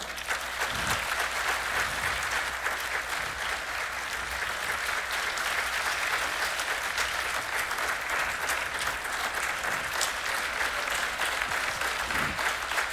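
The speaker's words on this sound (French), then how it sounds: "je voudrais s'il vous plaît qu'on lui fasse une grande ovation" A large audience gives a sustained ovation for team leader Wafa Idrissi at a master class event, dense steady clapping filling the room evenly for the whole stretch with no voices above it.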